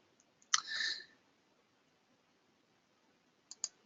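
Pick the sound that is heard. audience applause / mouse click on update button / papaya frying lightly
mouse click on update button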